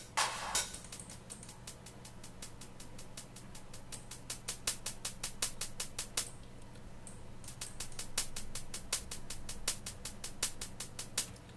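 A steady, fast hi-hat pattern programmed in the FL Studio step sequencer ticks along at moderate volume, some hits accented louder than others, over a faint low hum.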